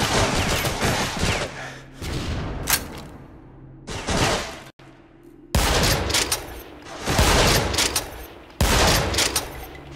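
Shotgun blasts in a Doom 2 total conversion shooter, with several loud, booming shots spaced a second or two apart, each followed by a brief decaying tail and mechanical clatter between them.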